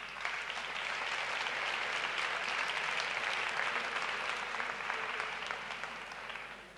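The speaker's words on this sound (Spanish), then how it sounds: "Un fuerte aplauso." Audience applause at a blog awards ceremony, steady broadband clapping from a large crowd that holds evenly throughout and eases slightly near the end, with no talk over it.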